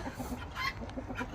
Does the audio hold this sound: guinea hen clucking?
yes